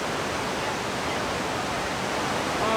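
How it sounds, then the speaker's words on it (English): A loud, steady roar of rushing water from the middle falls of a waterfall near Duluth, Minnesota fills the air with constant broadband noise, close by and unbroken. "the falls are incredibly beautiful, but also very loud"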